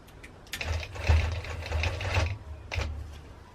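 A longarm quilting machine stitching binding onto a quilt, its rapid mechanical needle chatter running in a few close bursts with short pauses between.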